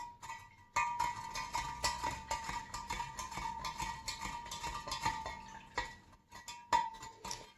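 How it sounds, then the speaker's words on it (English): Spoon stirring sugar into homemade mulberry sake in a container, a steady run of light scraping and clinking for several seconds with brief pauses, close and fairly quiet. "We're going to stir this till it's dissolved"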